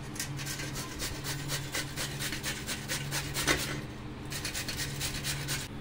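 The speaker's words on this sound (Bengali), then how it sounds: "গাজরটা ঘষে নেব।" A carrot is rubbed against a grater in a kitchen, giving a rapid, even series of close scraping strokes in a steady rhythm with a brief pause near the end.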